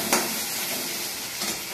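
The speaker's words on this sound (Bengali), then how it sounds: "এইবার খুন্তি দিয়ে নাড়াচাড়া করবে।" Potatoes with cumin sizzling in hot oil in a pan, stirred with a metal spatula, a steady close frying hiss with occasional scraping strokes, no voices.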